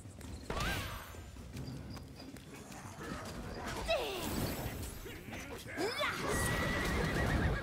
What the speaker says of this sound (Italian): Quello è il cavallo magico.